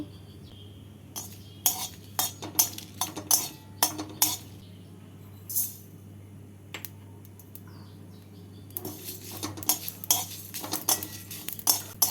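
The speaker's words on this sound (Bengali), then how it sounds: "আমের চাটনির জন্য শুকনো কড়াইতে শুকনো লঙ্কা আর পাঁচ ফোড়ন ভেজে গুঁড়ো করে নেব" Dry red chillies and panch phoron are stirred and roasted in a dry wok for mango chutney. A spatula gives quick, irregular clinks and scrapes in clustered bursts, close and fairly quiet, with no talk.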